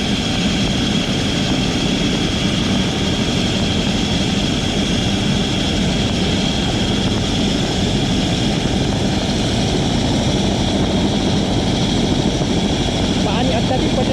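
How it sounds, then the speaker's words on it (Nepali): A helicopter lifts off in heavy rain, its loud, continuous rotor and engine roar filling the scene from nearby while a person speaks over the noise. "अहिले यो चाहिँ टेक अफ गर्न लागिरहेको हो फेरि।"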